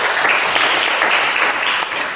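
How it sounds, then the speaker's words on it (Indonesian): Classroom students clap for group 4 after their presentation, a loud, close, continuous patter of hands with no talk over it. "Tepuk tangan dulu buat mereka."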